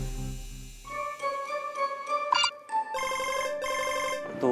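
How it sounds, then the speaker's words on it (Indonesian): A telephone rings with a bright electronic melody ringtone, a repeating sequence of chiming tones, close and loud, with no talking over it. "Tuh kan, telepon lagi."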